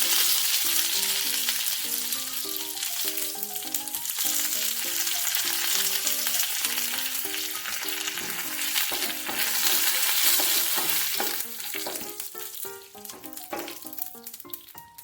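Urad dal, dried chili and curry leaves fry in hot oil for a sweet potato leaf side dish, a steady close sizzle and crackle with occasional stirring scrapes, bright and continuous throughout.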